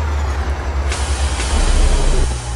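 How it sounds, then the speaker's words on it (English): Air brakes of a Kamaz 5410 truck in Euro Truck Simulator 2 release a sharp broadband hiss that bursts in near the one-second mark over a steady low engine rumble. "There's the air brakes there."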